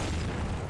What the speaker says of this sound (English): Most unnecessary explosion